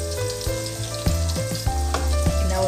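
Mutton gravy with coconut milk stirred in a pan: loud bubbling sizzle overlaid with repeated rhythmic metallic scrapes and clanks of the ladle, close up with no voices.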